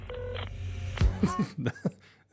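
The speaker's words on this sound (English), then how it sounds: "You starting off with a laser beam sound effect?" A laser beam sound effect opens a pop song, with bright zapping electronic tones over a low synth bed before sharp, punchy hits enter.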